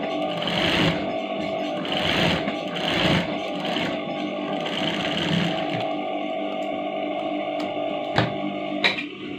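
A sewing machine runs steadily, stitching a chudithar top with a close, continuous whirring hum and rapid needle clatter, and a couple of sharp clicks near the end.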